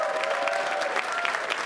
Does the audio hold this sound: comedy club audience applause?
yes